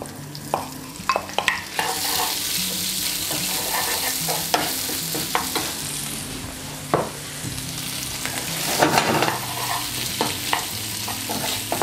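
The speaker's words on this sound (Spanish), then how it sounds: "Aquí procedemos ahora a agregar nuestro pulpo" Octopus searing in garlic oil in a frying pan gives a strong, steady sizzle heard up close, broken by repeated clacks and scrapes of stirring spread across the whole stretch, with no voices.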